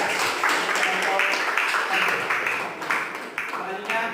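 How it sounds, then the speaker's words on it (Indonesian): Applause from a classroom audience after a group presentation, dense clapping rising and falling in bursts, fairly loud and close, with no one speaking over it. "Tepuk tangan yang meriah"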